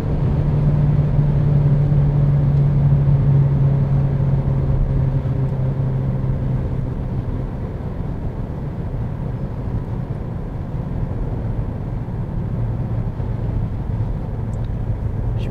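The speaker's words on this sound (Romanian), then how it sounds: "Observați și frâna de motor. Am lăsat-o în treapta a patra." A Renault Megane Sedan 1.3 TCe 140 with EDC gearbox coasting on engine braking in fourth gear, a steady low engine drone under road and cabin noise that slowly drops in pitch, heard from inside the car without talk.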